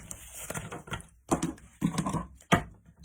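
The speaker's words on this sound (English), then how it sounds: "I want to shuffle one more time." A deck of oracle cards is shuffled at close range in three or four quick bursts of papery riffling and flicking, separated by short pauses, with no talking.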